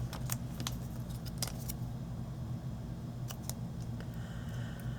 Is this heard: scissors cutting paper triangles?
yes